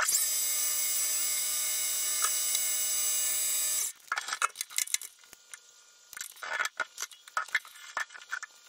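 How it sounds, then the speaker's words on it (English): A Boley and Leinen watchmaker's lathe runs with a steady, high motor whine for about four seconds while turning a small shaft, then falls silent, leaving scattered close taps, clicks and metallic handling sounds. "let's get over to the lathe and make a shaft to take care of this one"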